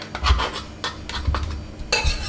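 A utensil scrapes and clinks against a pot as butter is stirred into a thickening cornstarch and water mixture for baked macaroni and cheese, in several close, irregular strokes.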